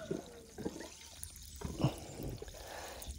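Cold deep-well water gurgles and splashes as bubbles are blown out, quiet, uneven trickling and pouring with a few louder bursts over a faint background.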